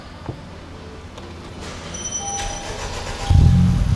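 A Honda Civic Type R FK8 with a tuned 420 whp engine starting up: quiet ignition whines and clicks build over a few seconds, then the engine catches with a loud, deep low rumble close by.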